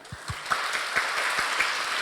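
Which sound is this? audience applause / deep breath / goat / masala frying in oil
audience applause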